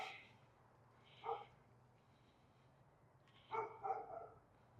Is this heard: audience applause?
no